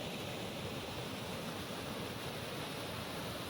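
Floodwater pouring over a river causeway after heavy rain in Dahod, Gujarat, a continuous dense rushing roar, close and steady throughout.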